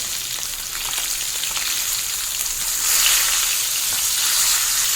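Pieces of fish fry in a pan with a loud, dense, continuous sizzle and crackle that grows a little stronger partway through, heard up close with no talking.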